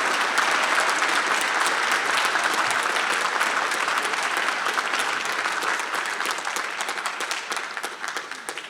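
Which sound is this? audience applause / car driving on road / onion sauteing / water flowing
audience applause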